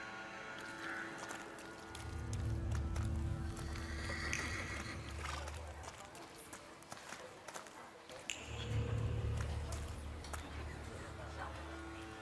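Horse in the video game The Thaumaturge, whinnying and snorting with hoofbeats as it sets off on a run, loud bursts of galloping rising and falling over ambient game sound.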